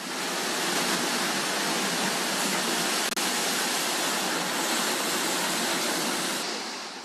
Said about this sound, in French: Les vagues arrivent et enflent implacablement. La mer envahit tout.